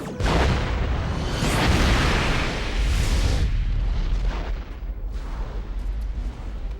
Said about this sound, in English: Mr. Worf, quantum torpedoes.